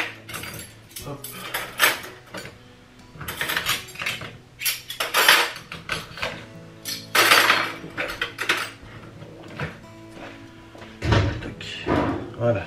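Dishes, cutlery and pots clatter and clink as a dishwasher is unloaded in a home kitchen, in close, irregular bursts with occasional cupboard thuds between them.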